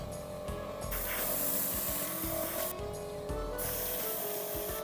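A clear chipping-effect coat is sprayed onto metal, giving a close, steady airy hiss that runs continuously with a couple of brief breaks in the spray.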